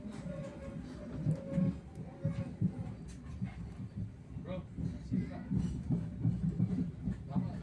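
Motis Nataru Utara passenger train rolling along the rails out of Jakarta: a steady low rumble with rhythmic wheel clatter runs throughout, with muffled voices in the background.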